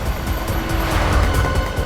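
A car drives through a street chase with a steady, close engine and road rumble that holds even throughout, with no voices over it.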